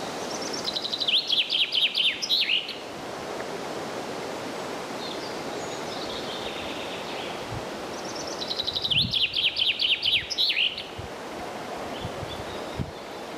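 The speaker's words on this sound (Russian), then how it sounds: "Вот здесь птицы поют, вот реально лес" Two bursts of rapid, high bird song ring out in an old spruce forest in the Storozhka river valley, western Moscow region, over a constant soft rush like a nearby stream and rustling leaves.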